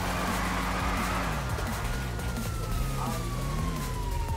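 Police car siren wailing in a driving video game, a loud, continuous rising-and-falling tone over engine hum, heard close and steady throughout.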